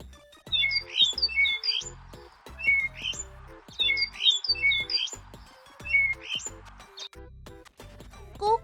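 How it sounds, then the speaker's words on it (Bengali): A starling gives repeated bright chirping and whistled calls in short bursts, set over a steady rhythmic musical backing. "starling,"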